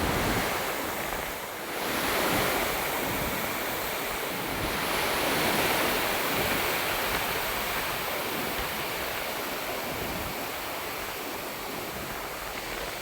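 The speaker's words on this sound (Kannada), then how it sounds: "ಡ್ಯಾಂನ 30 ಕ್ರಸ್ಟ್ ಗೇಟ್ ಮೂಲಕ ನೀರನ್ನು ಹೊರಬಿಡಲಾಗ್ತಿದ್ದು" Water released through the 30 crest gates of the Basavasagara dam during heavy Karnataka rains pours out in a loud, steady, broadband roar that holds constant throughout, with no voices.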